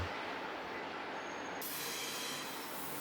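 A train rolls slowly through the Seosomun level crossing on the Gyeongui line, its wheels squealing and rumbling steadily at close range, with a sharp shift in the rail noise midway.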